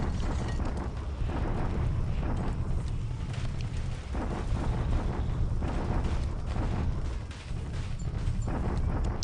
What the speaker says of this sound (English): We bombard at Clark as well.